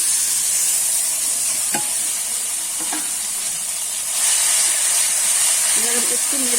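Fried and ground spice paste goes into a hot pan and sizzles loudly in a steady, bright hiss, with a few faint utensil taps and the sizzle swelling near the end.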